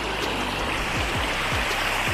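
Water rushing and flowing steadily in a river stream at a campsite water crossing near Rishikesh, a loud dense wash of sound, close and continuous.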